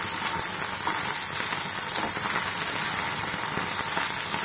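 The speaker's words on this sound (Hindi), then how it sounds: "अपनी भिंडी को 5 मिनट तक ऐसे ही लो टू मीडियम फ्लेम पे फ्राई कर लेते हैं।" Okra frying in two tablespoons of oil over low to medium flame, a constant close crackling sizzle with no pauses and no voices.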